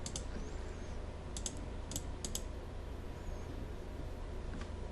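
Computer keyboard typing in short clustered bursts of clicks over a steady low hum, fairly faint and close, with no talking.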